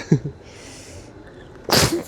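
Someone sneezes close to the microphone, a sharp, loud burst after a faint intake of breath and a quiet stretch, with a brief vocal sound near the start.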